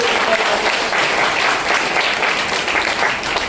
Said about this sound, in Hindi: ताली बजाइए जोरदार वाली।